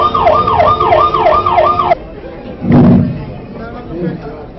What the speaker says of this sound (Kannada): ಓ ಆಂಬುಲೆನ್ಸ್ ಬಂತು.